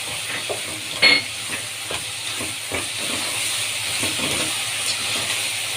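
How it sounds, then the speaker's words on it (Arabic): Potatoes frying and browning in hot oil in a pan, with a steady broadband sizzle and hiss running throughout, a few soft crackles, and a brief louder clatter near the start. "طبعا البطاطس بدأت اللي هي تتحمر اهي"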